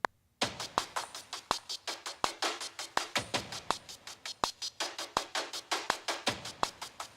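A steady series of sharp, bright clicks at an even tempo, sounding alone and fairly close, with no voices.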